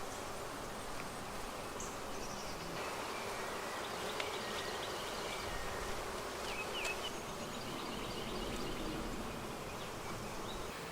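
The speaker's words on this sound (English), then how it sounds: "I'm going to take the bees that swarmed from the blue hive today" A swarm of honey bees gathered at a hive, a dense, continuous buzzing drone that fills the whole stretch evenly, close and steady with no voices.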